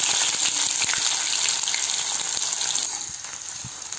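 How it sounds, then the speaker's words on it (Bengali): Onions fry in oil with bay leaf, dried chilli and cumin, giving a steady crackling sizzle with scattered pops and clicks that eases slightly toward the end. "তো পেঁয়াজটাকে ভালো করে ভেজে নেব"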